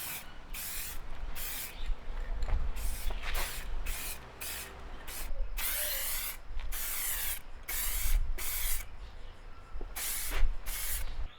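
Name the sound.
spray can applying a dust coat to a headlight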